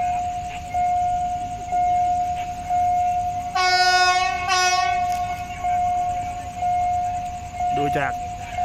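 A train horn blares at a level crossing in Udon Thani, sounding in two strong blasts over a steady high warning tone from the crossing barrier, with a short squeal near the end.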